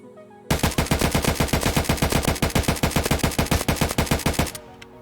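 Rifle fired in full auto with short taps at a concrete wall outdoors, a dense run of loud, rapid sharp cracks in quick bursts lasting about four seconds, then abrupt silence.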